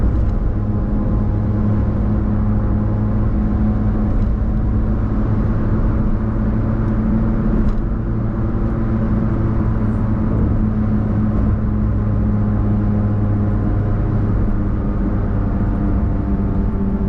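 Steady, loud road rumble and tire roar fill the cabin of a car cruising at 100 km/h on an Indonesian toll road past Karawang Timur, an unbroken low drone with a faint engine hum beneath and no talking.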